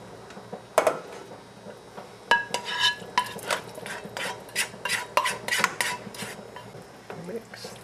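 Spaghetti sauce for canning mixed in a metal pot, a series of close, uneven clanks and scrapes of a utensil against the pot in quick bursts, with faint background hum and no speech.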